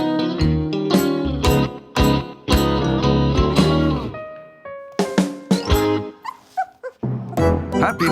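Samoyed puppies whimpering and yipping close by, a rapid series of high whines and sharp yips that come in bursts with short pauses between.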